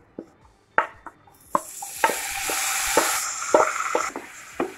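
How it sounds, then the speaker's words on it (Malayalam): Cooked long beans are tipped into hot chili masala and stirred, sharp clacks of a spoon against the pan repeating under a sudden, steady sizzle of frying. "ഇതിലേക്ക് നമ്മൾ വേവിച്ച് വെച്ചിരിക്കുന്ന പയർ ചേർത്ത് കൊടുക്കാം."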